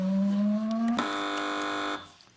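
A quiz show buzzer blares a single electronic tone that rises slightly, then jumps to a harsher, louder buzz held for about a second before cutting off into quiet.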